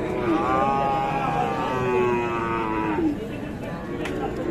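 A Sahiwal bull calf at a livestock market lets out a long, drawn-out moo lasting a few seconds, loud and close, followed by a shorter low call, with market chatter and background crowd noise underneath.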